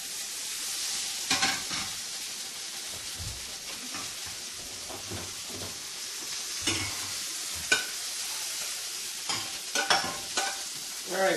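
Pelmeni dumplings fry in a pan with fish sauce, giving a steady high crackling sizzle broken by occasional scraping stirs and louder spatters.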